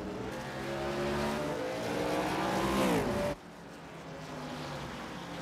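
Race cars roar around a short track at Lanier, a loud sustained engine drone rising in pitch as a car accelerates, then cutting off abruptly into a quieter, more distant rumble.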